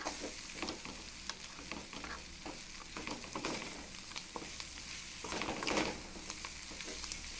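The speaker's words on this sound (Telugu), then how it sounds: "బెండకాయని పల్లీని ఒక టూ మినిట్స్ ఇలాగే వేగనివ్వాలి" Okra and peanuts frying in a pan with chili powder, a steady soft sizzle under intermittent stirring scrapes of a spatula, close and continuous, no voices.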